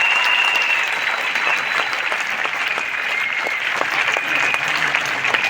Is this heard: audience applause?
yes